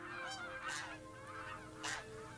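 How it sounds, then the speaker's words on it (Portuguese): Geese honking in an open field, two loud nasal honks about a second apart over a steady background of other fowl calls, with no talking. "Laurence passa a observar os patos e os gansos que vivem nos campos perto de Altenberg."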